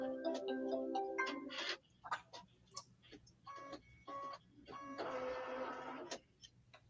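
An embroidery machine stitches a small crosshair for a holiday quilt project, sounding as rapid mechanical bursts of needle clatter broken by brief pauses and clicks.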